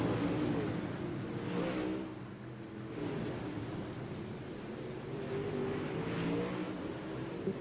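Super Dirt Late Model race cars roar around the Limaland dirt track in a steady, blended engine drone that swells and fades slightly as the pack passes, no talk.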